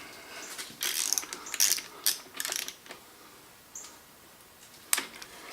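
Ratcheting clicks from a wrench turning a nut on a crankshaft main cap stud during a Ford FE engine build, in several bursts of rapid clicking with short pauses, close up with no talking.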